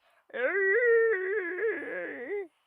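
A human voice imitating a T-Rex roar: one sustained, wavering, tonal howl lasting about two seconds, close and fairly loud, ending abruptly.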